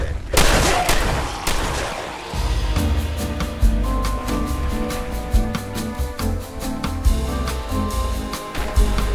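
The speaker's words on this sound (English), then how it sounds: "I cannot recommend the explosive shotgun enough" Explosive shotgun blasts fired in Fallout 4, a loud opening boom followed by a steady run of sharp repeated shots with rumbling impacts, alone without talk.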